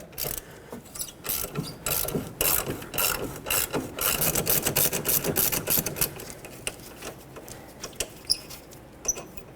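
A hand ratchet loosens a caliper bracket bolt on a 2006-2010 Hyundai Sonata, rattling in quick bursts of clicking strokes with short pauses between, close and fairly loud.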